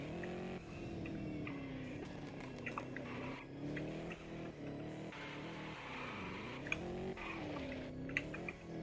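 Mercedes E63S AMG on a race track with traction control toggled, a continuous engine drone rising and falling through gear changes and revs, heard steadily from inside at moderate volume without talk.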